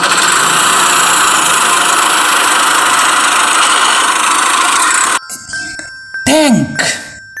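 Tractor engine idling loudly and steadily with a continuous rough mid-range rumble for about five seconds, then stopping, followed by a few short clunks and a brief tonal whir.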